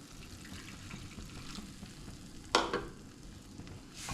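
Water splashes into a sizzling cashew-paste gravy for butter chicken, with one sharp burst of pouring over a steady frying hiss that continues alone afterward.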